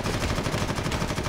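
Sustained, rapid automatic gunfire in Warhammer 40k: Eternal Crusade, a dense, loud, continuous rattle of shots filling the whole moment with no talking.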